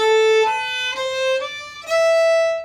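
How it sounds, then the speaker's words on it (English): A bowed fiddle plays four sustained notes in a row, including an open D, each one clear and close, the last held longest. "you can also just play an open D for that space as a chord note"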